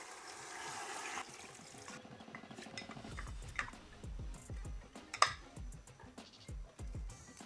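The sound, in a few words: water being poured into a soup pot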